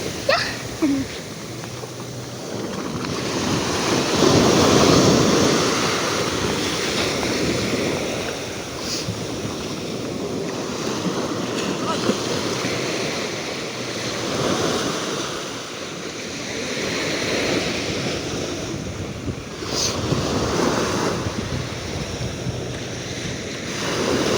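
Large ocean waves surge and roll continuously, loud and close, with steady wind rushing across the microphone.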